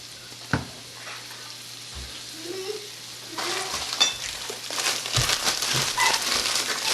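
Minced jarred garlic sizzling in a hot pan for a family stir fry, with a few clanks and stirring scrapes at first and then a louder, crackling fry building toward the end.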